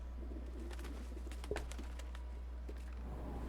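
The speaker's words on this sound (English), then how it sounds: "did you hear the doves?" Soft dove coos from the video game Baldur's Gate 3 sound over a constant low hum, with a few brief clicks mixed in.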